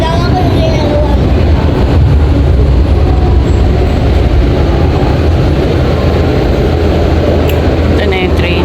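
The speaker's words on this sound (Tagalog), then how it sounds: "Ito na yung train." A New York subway train arrives in a station with a loud, continuous low rumble and rattling roar that fills the whole stretch, metallic squeals rising above it near the end.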